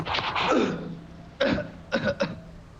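A person lets out a long, harsh retching cough, then a pause, followed by three more short, rough coughs close to the microphone.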